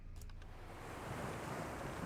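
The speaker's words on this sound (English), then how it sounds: "I peer down from the cliff to the dark red waves below." Dark red waves in a video game crash against the base of a cliff far below, a steady, dense roar of surf with a wind-like hiss and no voices.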